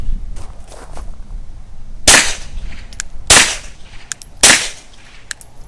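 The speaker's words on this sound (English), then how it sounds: "it sounds like a crack of a little gunshot" A 9mm pistol fires through a Q ERECT9R suppressor with three baffles plus a blast baffle, giving three sharp, loud cracks about a second apart, with faint clicks and handling noise between them.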